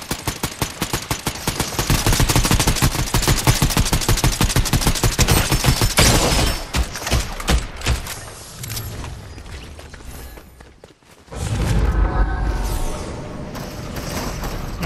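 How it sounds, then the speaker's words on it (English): Rapid automatic gunfire in the Fortnite battle royale game, a dense burst of shots for about six seconds, then scattered single shots, a brief lull and renewed firing with mechanical clatter, loud and close. "Getting shot at."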